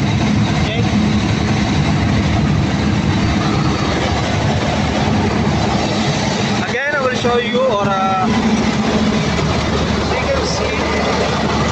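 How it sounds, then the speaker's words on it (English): A Caterpillar C15 diesel generator set, 500 kVA/400 kW, runs with a loud, steady droning roar throughout, and someone speaks briefly over the engine noise. "the engine sound is very annoying"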